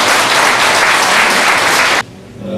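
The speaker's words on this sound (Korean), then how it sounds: "우리 다 함께 큰 박수로 행사를 시작하도록 하겠습니다" Loud, dense applause from the audience at a centennial commemoration ceremony, a full steady roar of clapping that cuts off abruptly after about two seconds, leaving a quiet room tone.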